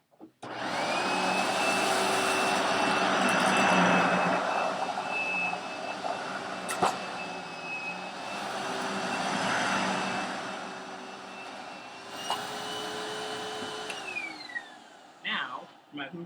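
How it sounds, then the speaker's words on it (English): A Hoover Windtunnel Self-Propelled Bagless vacuum cleaner runs with a steady, loud motor whine and airy roar, swelling and easing slightly before winding down near the end. "let's get started with the Hoover Windtunnel Bagless."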